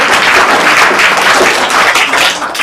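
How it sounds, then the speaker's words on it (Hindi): Loud, dense audience applause fills a televised quiz game show studio, steady and continuous throughout with no talk over it. "जोरदार तालियां भाई"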